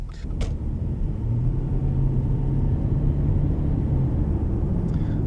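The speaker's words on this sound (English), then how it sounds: "Now I saw the gearbox in action. Basically, that was full throttle." A 2008 Audi A4 2.7 TDI with Multitronic gearbox accelerates at full throttle, its diesel engine holding a steady, droning rumble heard from inside the cabin, with a brief click near the start.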